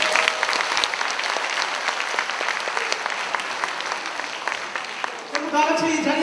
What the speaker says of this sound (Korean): 박수를 맞아주십시오.